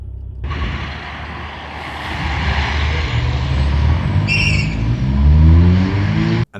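A drag-racing lorry at a racetrack firing lane builds from a rumbling start into a loud, rising engine roar with a brief air-brake hiss midway, heavy and close before cutting off abruptly.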